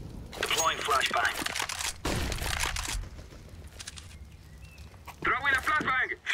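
A flashbang goes off during a Counter-Strike: Global Offensive match, with loud crackling bursts and gunfire-like volleys coming in clusters and quieter gaps between them. A voice speaks briefly toward the end.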